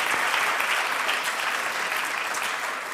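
An audience at a European science olympiad event claps together in a full, steady round of applause that fades slightly toward the end.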